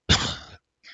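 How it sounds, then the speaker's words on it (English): A single harsh cough bursts out close and loud, followed after a short pause by a softer, breathy tail. "Having lung issues again, starting to cough again"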